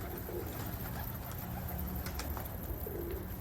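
Pigeons coo softly through steady background noise, with a few low calls in a short outdoor stretch and no talk.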